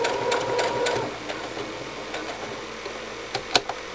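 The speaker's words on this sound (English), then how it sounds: "So I make a couple stitches back and forth." Sewing machine stitching a Martingale dog collar, a short burst of rapid mechanical stitching back and forth at the start, then quieter ticks and clicks as the fabric is handled.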